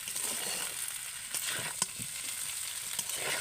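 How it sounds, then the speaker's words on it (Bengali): Vegetables stir-fried in a wok produce a soft, steady sizzle broken by a few sharp scrapes and clicks as they are tossed, with nobody speaking. "আবারও একটু নেড়ে নেড়ে ভেজে নেব সবজির সাথে ভালো করে"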